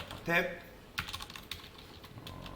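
Quiet, close clatter of code being typed on a computer keyboard in short bursts of keystrokes, with a brief low voice at the start.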